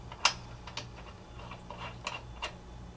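A socket wrench ratchets a new spark plug into the cylinder head of a Toro lawn mower, giving a few sharp, close clicks spaced irregularly over a quiet background.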